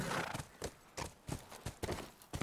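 Horse hooves clip-clop at a steady walking rhythm in The Last of Us, a run of close, distinct hoof strikes heard alone with no talk.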